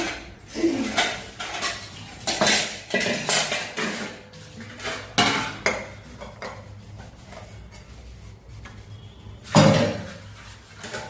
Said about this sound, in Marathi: चला आता आहे ना भांडी घासून घेते.